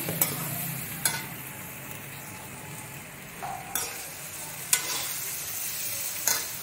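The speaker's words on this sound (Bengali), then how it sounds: "দিয়ে দিচ্ছি চীনা বাদাম" Peanuts tossed into a hot frying pan for sukto and stirred, a steady sizzle running under several sharp scraping clinks of the spatula against the pan, close and fairly loud with no talking.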